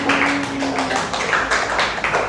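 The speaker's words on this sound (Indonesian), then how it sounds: "Sekali lagi tepuk tangan untuk Talita yang lebih meriah." A classroom of students claps for a classmate named Talita, a dense steady patter of many hands close by, lasting the whole moment with no talking over it.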